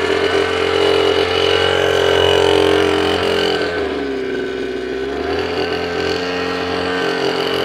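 A motorcycle engine during a riding licence test in heavy rain, droning loud and close with a steady tone that dips briefly in pitch midway before holding again, with no talk.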